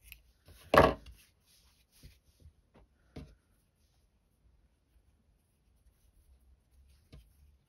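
Scissors trim the yarn ends of a knitted headband made on a circular knitting machine: a few crisp, isolated snips spaced seconds apart, with quiet rustling in the gaps.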